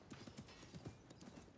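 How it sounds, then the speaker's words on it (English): Horse in Assassin's Creed Mirage, steady clip-clop of hooves in a quick repeating rhythm with a soft whinny mixed in, moderately close over a noisy game ambience. "oh yeah, this is my new horse"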